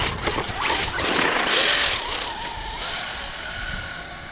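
A Traxxas Rustler VXL 4x4 RC truck races fast across rough ground, its high-pitched motor whine surging loud and near, then easing to a steadier tone as it pulls away.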